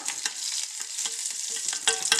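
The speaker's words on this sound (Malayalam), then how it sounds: "ഇനി 1 തണ്ട് കറിവേപ്പില ഇട്ട് കൊടുക്കാം" Curry leaves sizzling in hot mustard-seed oil while a spiced prawn side dish is being cooked, giving a steady close crackle of frying with sharper pops and stirring scrapes throughout, with no talk.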